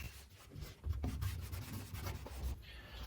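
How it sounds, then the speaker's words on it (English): A rag rubs degreaser onto the chassis of a 1955 VW Oval Beetle, giving a steady, close scrubbing and wiping texture with repeated strokes and no voices. "I just take some normal degreaser and rag it, put some on here."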